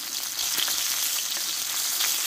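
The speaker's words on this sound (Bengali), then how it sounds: "ধীরে ধীরে পটলটা আমি কষতে থাকবো" Pointed gourd pieces fry in oil with turmeric, giving a steady, close sizzle with faint crackles and a few soft stirring scrapes throughout, no voices.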